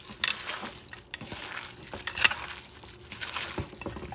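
Yuca empanada dough being stirred with annatto oil in a bowl, making irregular soft scraping and wet squelching strokes close by, with a few sharper clicks of the utensil.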